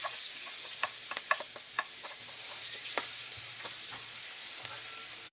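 Garlic frying in a hot pan for a Filipino sautéed anchovy and tomato dish, a steady close sizzle with scattered pops and light stirring clicks.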